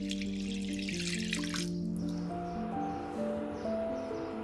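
Coconut milk pours into a pan of rinsed, soaked sticky rice, a steady liquid splash and trickle for the first second or two, then fading to quiet bubbling and faint stirring under background music.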